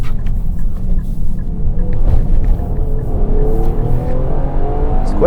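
V6 engine of a 2023 Nissan Pathfinder Rock Creek accelerating, a loud steady low rumble heard from inside the cabin with the pitch rising gradually as the revs climb.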